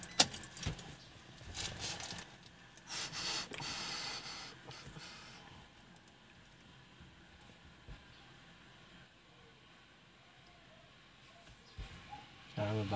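Toyota car keys jangle in a few quick, light metallic bursts near the start, then faint background noise follows.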